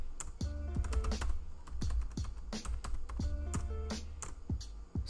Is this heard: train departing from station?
no